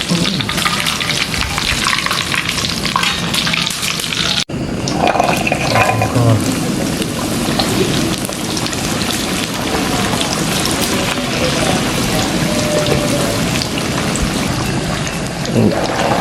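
Jengkol frying in a pan gives a steady, loud sizzle and crackle, like hard rain, that runs unbroken throughout apart from one brief dropout.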